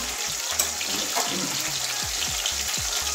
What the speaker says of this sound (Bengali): ওই দিকটাও এরকম লাল লাল করে ভেজে নেব